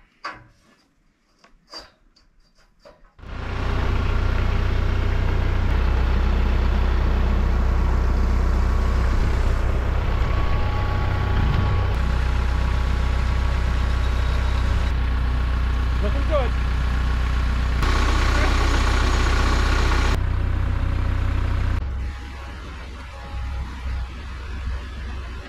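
A tractor engine idles steadily and close, a low constant rumble that starts abruptly and then drops off near the end, with faint voices in the background.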